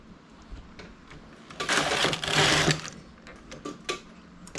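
A knitting machine carriage knitting 2x2 rib, a mechanical whirring pass that swells loud in the middle and fades, with rattling clicks before and after.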